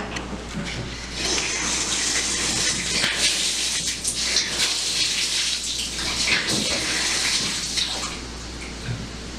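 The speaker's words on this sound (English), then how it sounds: "We're going to run a lot of water in there just to give it a really nice test." A bathtub fills from the tap during a home inspection in Phoenix, a strong, steady gush and splash of running water lasting several seconds, up close and loud.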